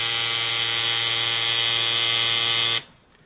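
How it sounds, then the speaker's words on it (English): A tattoo machine buzzes loudly and steadily at close range, a constant electric whine that cuts off abruptly near the end, leaving quiet room noise. "If you'll notice the angle that I have the tattoo machine itself"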